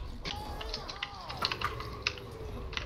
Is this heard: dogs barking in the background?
no